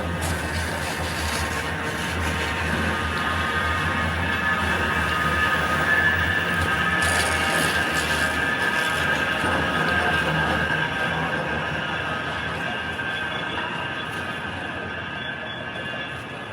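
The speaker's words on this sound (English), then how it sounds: "The tram station is beside here, so the trams are going and coming" Steady rumble of trams passing nearby at a St. Peter's Square station in Manchester city centre, a continuous rolling drone with a brief metallic squeal, all under a busy city background.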